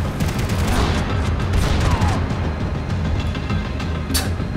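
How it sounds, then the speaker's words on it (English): Shotgun fire in the video game Max Payne 3, heavy booming blasts dense with rumble and explosive mixed game noise, loud and continuous with a sharper crack near the end. "Shotgun."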